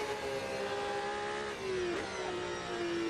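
Car engine in the Assetto Corsa racing game on the Nürburgring Nordschleife, a steady high engine drone with a short dip in pitch as it shifts, then holding loud and even, no talking.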